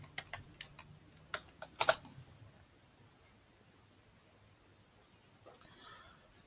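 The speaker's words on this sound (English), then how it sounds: "I will type pregnancy and hypertension." A few quick, crisp keystrokes on a computer keyboard, close by, in the first two seconds, then near silence with a faint rustle at the end.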